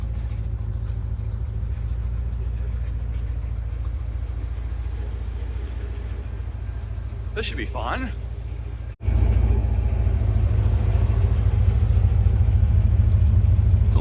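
A 1984 Chevrolet C4 Corvette engine rumbles steadily at idle, close and low; someone speaks briefly over it, and after a short dropout the rumble returns louder and fuller.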